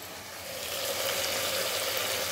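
Mint leaves sauté in a hot pan as the base for a country chicken biryani, giving a steady, close, even hiss that swells slightly and then holds, with no voices.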